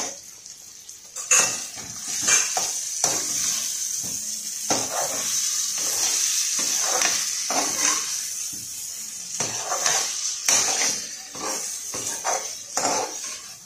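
Boiled vegetables stirred in oil with tomato masala for poha upma, heard as repeated metal spoon scrapes and clinks against the pan over a soft sizzle, close and busy throughout.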